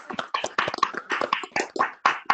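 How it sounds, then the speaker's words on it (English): Online meeting participants clap together over unmuted microphones, a brisk, close run of overlapping hand claps in an uneven rhythm, with no voices. "give Nick a great round of applause"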